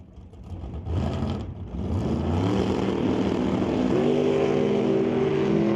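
A Chevelle and a Chevy II drag racing at a bracket event: engines rumble low at first, then surge into a loud, sustained roar as both cars launch and climb through the revs, rising steadily in pitch to the end.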